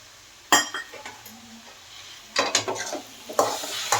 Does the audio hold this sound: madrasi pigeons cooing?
no